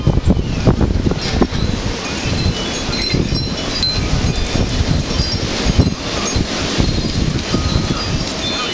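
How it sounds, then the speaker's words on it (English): A strong gusty windstorm in Austin, Texas, with a northern front blowing in, roars loud and continuous against the microphone, buffeting in surging gusts with rustling throughout. "Pretty windy though. Make it worse tonight. Comes in big gusts."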